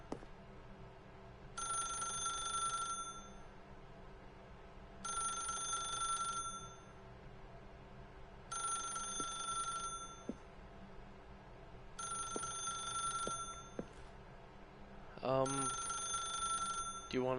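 A telephone rings in the video game The Stanley Parable, five evenly spaced electronic ring bursts of about a second each, separated by pauses, over a steady low background hum.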